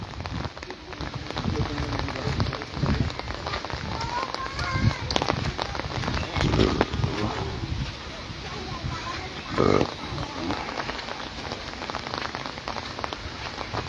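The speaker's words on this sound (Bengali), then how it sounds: "বৃষ্টির আওয়াজ শোনা যায়" Rain falls steadily on surfaces nearby, with a voice talking over it at moments and a few louder bursts here and there.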